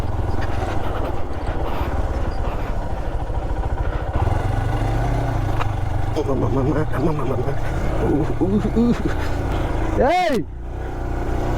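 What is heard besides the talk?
motorbike engine idling and revving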